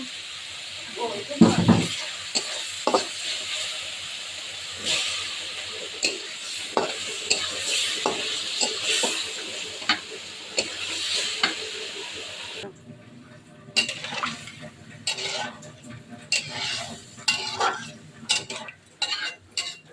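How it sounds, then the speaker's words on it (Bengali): Fish sizzles and fries in a hot pan while being sautéed before bottle gourd is added, with loud crackling spatter, stirring scrapes and utensil clinks throughout, and someone talking over it. "মাছটা একটু কষিয়ে তুলে নিয়ে লাউ দিয়ে দেবো।"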